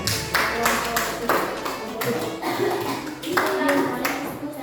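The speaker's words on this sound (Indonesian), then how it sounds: "Tepuk tangan buat kita semua." Group clapping in uneven bursts, fairly close, with people talking underneath the applause throughout.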